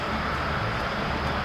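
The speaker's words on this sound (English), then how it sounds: "You can hear the cars going by." Highway traffic across a river, heard from a campsite as a continuous broad rumble and hiss of cars going by, steady and moderately loud with no voices.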